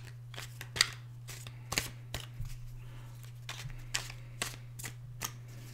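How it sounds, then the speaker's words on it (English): A deck of tarot cards given a quick overhand shuffle, with a steady run of soft, crisp riffling slaps and taps close by, over a constant low hum and with no talking. "Do a quick little overhand shuffle."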